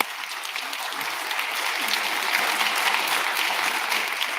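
An audience applauds at a federal government announcement of sustainability investments. The clapping builds slightly and then holds steady and full for several seconds, with no voices heard.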